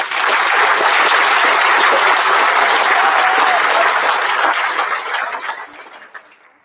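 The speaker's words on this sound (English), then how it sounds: "one more round of applause for all of our scholarship winners" Sustained applause from a large crowd at a high school graduation, dense clapping that holds steady for several seconds before tapering off near the end.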